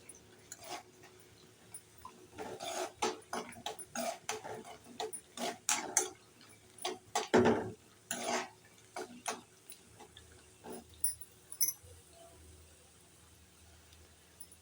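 Rava is roasted in ghee in a pan for kesari, with a spoon scraping and clinking against the metal in irregular bursts of close, crisp strokes, separated by quiet gaps.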